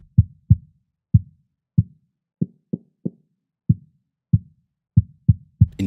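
A soloed kick drum sounds through a bandpass monitor filter in Torque, thirteen dull, boomy thumps in an uneven pattern, each short with a quick decay, close and isolated with no talking.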